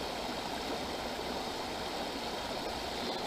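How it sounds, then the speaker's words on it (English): Water rushing down over rocks at Soleduck Falls in Washington's Olympic National Park, a steady, close, full roar of churning whitewater with no voices. "I've always liked the sound of the water rushing down through the rocks."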